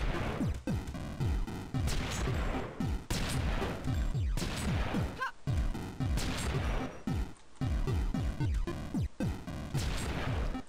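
Repeated shotgun blasts in the video game Iji, loud booming shots in quick irregular bursts across the whole stretch with no speech.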